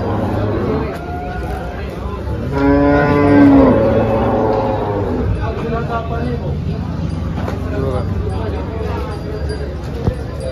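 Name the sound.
cow mooing at cattle market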